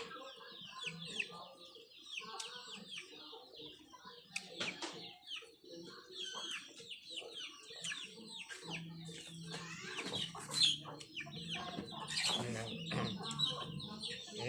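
Chickens cluck and chirp close by in an outdoor evening setting while pork grills, with scattered short calls and rustling, plus some faint talk in the background.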